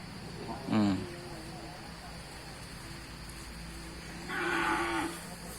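Native cattle at a livestock market in Nan, Thailand, let out two moos, a short one early and a longer, louder one near the end, over a constant murmur of the market and people talking.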